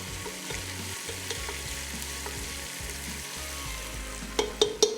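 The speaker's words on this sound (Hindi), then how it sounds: "फ्रेश कड़ी पत्ता शुरू में इसको भून लेंगे तो बड़ा अच्छा जो फ्लेवर और खुशबू जो है वो आ जाएगी पूरे के पूरे मसाले में" Fresh curry leaves sizzle and crackle in hot oil at the start of a spiced arvi gosht masala, a close, steady frying hiss with spoon stirring, ending in three sharp spits and pops.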